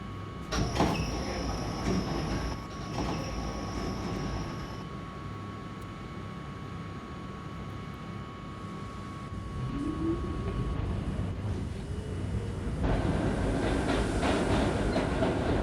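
A New York City subway A local train, an R38 car, rumbles along with a steady low roar and rhythmic rail clatter, growing louder and brighter toward the end as it picks up speed.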